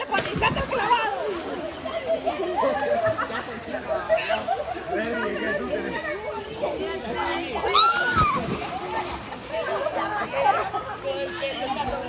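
Water splashes and sloshes in a swimming pool as someone dives in, while several people chatter and call out loudly throughout.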